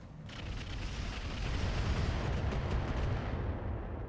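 Missile impacts in the mech combat game RogueTech form a dense, sustained rumble of blasts, loud and continuous with heavy low-end booming and no speech over it.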